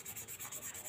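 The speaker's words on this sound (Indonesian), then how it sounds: "Ini untuk mengatasinya kita amplas pakai amplas yang halus." Fine 1000-grit sandpaper rubbing over a Jupiter Z engine part in a steady circular motion, a soft, quiet, close scratching with a gentle repeating rhythm and no voices.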